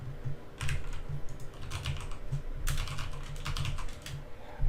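Keys clatter on a computer keyboard in bursts of quick typing, close and steady with short pauses, alone with no voices.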